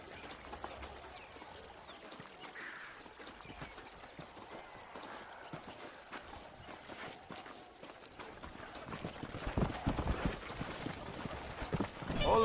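Hooves clip-clop steadily from a horse-drawn wagon in Red Dead Redemption, faint and even at first, then growing louder and busier near the end amid soft ambient noise.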